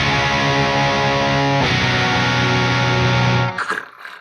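Electric guitar through a modded Marshall 1959HW Plexi amp with heavy phase-inverter distortion, a loud, thick held chord that shifts once, rings on, then is cut off and fades.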